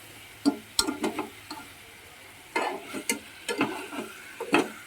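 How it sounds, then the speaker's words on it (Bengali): Dal being stirred in a pot, scattered scraping and knocking strokes of a spoon in short bursts with quiet gaps between them, close by and without talk. "তো নাড়া হচ্ছে খিচুড়ির মতো বেশ"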